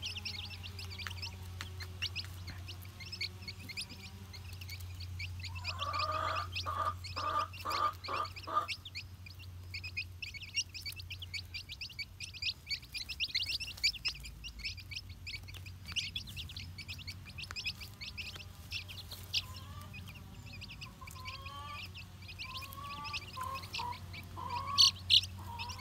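A mother hen clucks softly while her chicks chirp almost constantly, high peeps running throughout with a low steady hum beneath, close and moderately quiet.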